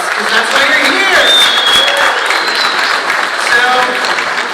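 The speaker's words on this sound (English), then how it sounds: "Can I get a round of applause for those two shows?" An audience at a Walking Dead convention panel at New York Comic Con bursts into loud, steady applause and cheering, sustained for several seconds.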